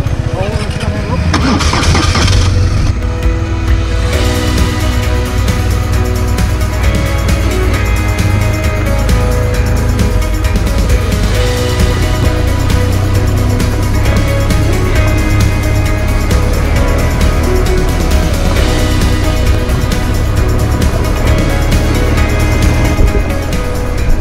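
Motorcycles ride along a relatively easy road, their engines droning steadily and loudly throughout, with some speech mixed in.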